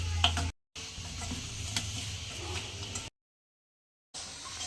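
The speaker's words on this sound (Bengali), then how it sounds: "কড়াই সর্ষের তেল দিয়েছি, গরম হয়ে গেছে, এবং মাছগুলো ভেজে তুলে নেবো" Fish fries in hot mustard oil in a wok, a soft continuous crackle and hiss heard close, cut by two short silent gaps.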